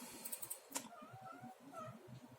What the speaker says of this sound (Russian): Что, кот?